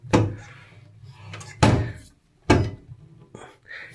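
Hotel wardrobe doors opened one after another, giving three sharp wooden thunks with short rattles between them, close by and fairly loud.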